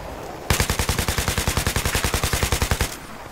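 A burst of automatic gunfire from Battlefield 3, rapid evenly spaced shots in one sustained volley of about two and a half seconds, loud and close, then cutting off.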